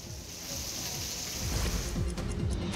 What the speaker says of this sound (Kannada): ಚಾಮರಾಜನಗರ ಜಿಲ್ಲೆಯ ಮಲೆ ಮಹದೇಶ್ವರ ಬೆಟ್ಟದಲ್ಲಿ ಮಳೆಯಾಗಿದೆ